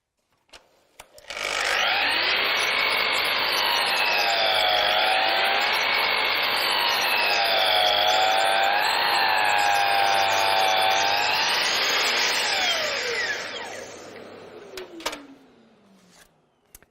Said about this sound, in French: Je fais une coupe très fine. Comme ça, vous verrez la précision de cette scie.